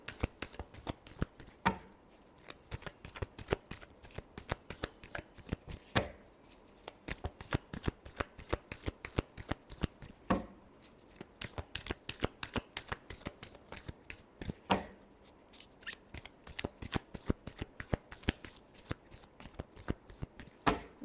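A deck of tarot cards is riffled and shuffled repeatedly at close range, a steady run of quick papery flutters broken by brief pauses near 2, 6, 10 and 15 seconds, with no voice.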